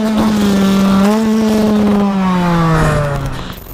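A motocross motorcycle engine revs close and loud, its tone rising and falling as the throttle shifts, then fading slightly at the end.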